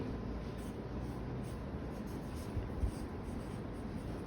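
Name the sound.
writing a word on a board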